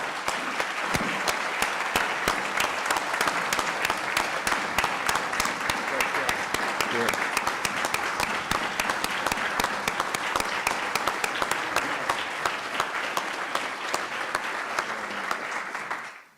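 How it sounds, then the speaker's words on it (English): Steady, dense applause from a seated audience honoring a doctor at a university investiture ceremony, sustained evenly and fading out at the end. "Let's all give Dr. Tedesco a round of applause"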